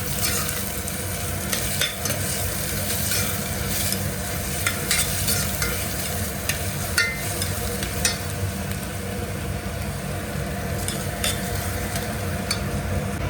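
Onions and green chillies are stirred in a frying pan while preparing Telangana-style mutton curry: a continuous sizzle with repeated scraping stirs and light utensil knocks, close and steady, with no talking.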